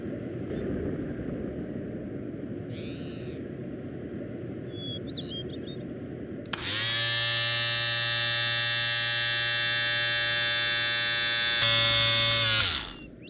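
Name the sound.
electric shaver shaving a head, Garry's Mod video game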